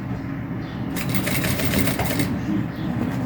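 A sewing machine stitches bias binding onto a crossbody bag, its motor running in a steady, fast whir for just over a second between quieter stretches of low room sound.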